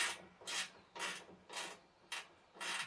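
Repeated creaking and rasping from a Craftsman riding mower's under-seat fuel tank as it is worked loose during removal, about five rough strokes in a steady rhythm, close and fairly quiet with no talking.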